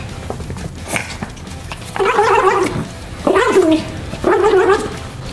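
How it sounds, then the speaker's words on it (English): Dog shaking and playing with a toy indoors in low light, letting out three loud growly barks or yips in quick succession over soft background rustling, with no clear talk. "Shake that toy, doggy."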